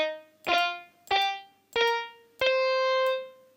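Four synthesized notes of a minor pentatonic scale played in GarageBand, each a clear harmonic tone struck in an even, unhurried rhythm, with the last note held longer and fading out.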